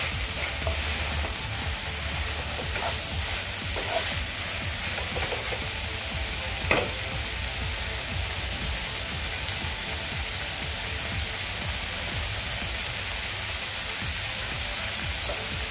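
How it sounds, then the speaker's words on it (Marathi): Shredded cabbage and chana dal sabzi sizzling and frying in a pan, a steady dense hiss throughout with a few faint stirring scrapes, close and continuous, no voices. "1-2 मिनिटं आपण हे परतूया"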